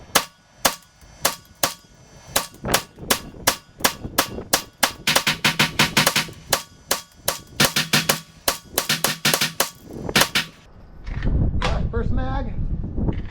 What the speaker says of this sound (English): We're going to start with the M&P and the Winchester ammo.